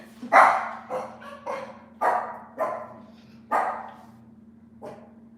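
A dog barks repeatedly at close range, about seven sharp barks spaced irregularly over a low steady hum.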